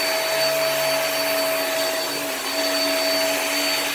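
A Hoover upright vacuum cleaner with wind tunnel technology runs steadily on a rug, a loud, even whooshing roar with a constant motor whine, close and uninterrupted throughout.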